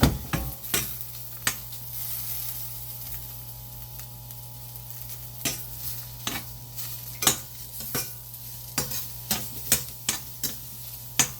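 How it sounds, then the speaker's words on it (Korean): Mushrooms stir-fried quickly over high heat with a little salt, a steady close sizzle broken by repeated sharp clicks and scrapes of stirring in the pan, no voices. "버섯은 약간 센 불에 빠르게 볶아주시면 되고요. 약간 소금을 조금 넣고 볶아주시면 됩니다."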